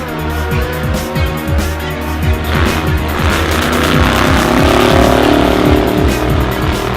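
Mazda MX-5 race cars roar past at a drag strip, engines loud and steady, with a series of rising and falling revs as several cars accelerate and shift.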